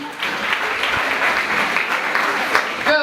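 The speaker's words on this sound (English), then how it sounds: "Let's clap for them." Audience clapping at an indoor gathering, a dense, steady round of applause sustained for a few seconds, fairly loud and close, with a voice briefly emerging at the very end.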